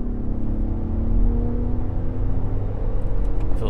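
A car engine pulls in fourth gear with the transmission in manual mode, a loud steady rumble with a rising drone heard from inside the car, without talk.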